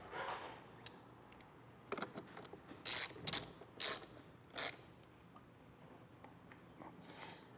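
A ratchet wrench fitted with a 12mm socket works a nut on a Jeep, giving a string of quick, crisp clicking bursts in uneven short runs, close and fairly quiet, with no talking.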